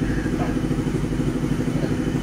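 A motorcycle engine runs close by with a steady, loud, throbbing rumble, like it is idling.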